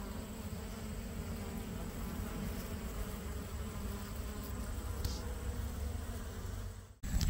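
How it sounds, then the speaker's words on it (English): Honeybees buzzing steadily as they gather nectar from shining sumac blooms, a continuous close hum of many insects outdoors with no talk. "here's one covered up with honeybees and they're collecting nectar"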